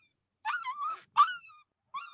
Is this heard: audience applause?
no